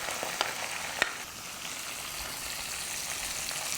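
Curry leaves, onions and green chilies fry in butter or ghee, a faint steady sizzle with a couple of soft clicks from stirring near the start.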